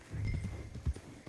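Horse hooves clip-clop in World of Warcraft, a few soft, quick thuds at low volume.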